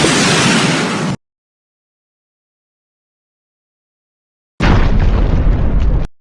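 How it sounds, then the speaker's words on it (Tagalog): Two loud, dense booms from New Year firecrackers and skyrocket blasts in a Filipino animated cartoon, the first burst ending abruptly, then several seconds of silence before a second heavy explosion. "At kami na mga tropa ay nagpapaputok kami tuwing bagong taon at kwitis ang palagi namin ginagamit."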